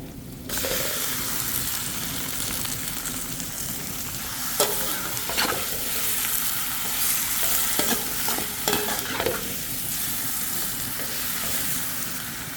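Chicken frying in a pan with garlic, onion and ginger, a steady bright sizzle with occasional stirring scrapes and clinks, close and continuous, no voices.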